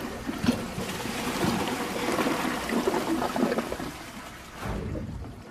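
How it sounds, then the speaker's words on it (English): A Champion 4 toilet flushes a heavy test load, its water rushing and gurgling steadily for several seconds before tapering off, then a brief renewed swirl, fairly loud and close. "So let's put them in the toilet"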